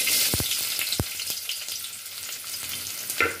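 Onions frying in hot oil in a heated handi: a steady close sizzle with a few sharp spoon knocks against the pot, no talking.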